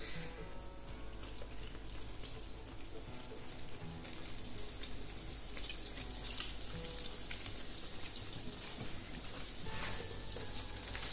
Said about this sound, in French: Dans une huile bien chaude, on va y disposer nos beignets.